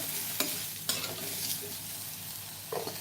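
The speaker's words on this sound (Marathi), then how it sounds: "असंच थोडं थोडा फ्लावर आपल्याला परतून घ्यायचं आहे" Cauliflower stir-fried in oil gives a soft, quiet sizzle, broken by a few sharp scrapes and knocks of the spatula against the pan.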